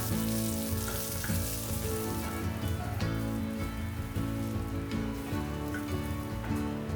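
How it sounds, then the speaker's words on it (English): Sliced onions fry in hot oil in a pan with cumin seeds, ajwain and whole spices, giving a steady, dense sizzle close by, with faint stirring scrapes and a soft background hum. "Now I'll add some sliced onions and cook them till golden brown."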